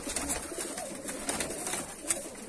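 White feather-footed tumbler pigeons coo softly, a faint low murmur of several birds close by with light rustling and scattered small noises.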